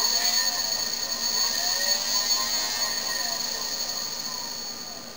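A brushless motor spins on a pedal-first controller, producing a thin, steady electric whine with high tonal lines. It starts fairly loud and tapers off gradually over a few seconds.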